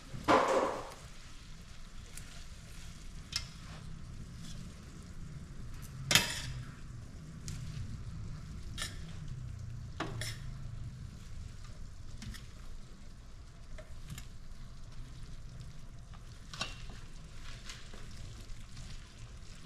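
A spoon stirs steamed cabbage in a pot, giving faint, sparse clinks and soft scrapes against the metal, with one sharper knock partway through, over a quiet kitchen background.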